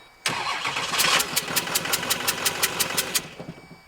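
A 6.6 Duramax diesel fitted in a Jeep Wrangler cranks over suddenly, fires and runs in a rough, rapidly pulsing clatter for about three seconds before it dies away, loud and close with no voices over it.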